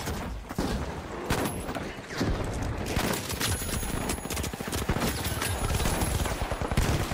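Rapid, loud gunfire from the Model 1887 lever-action shotgun and other weapons in the video game The Finals, with dense overlapping blasts and booms filling the whole stretch.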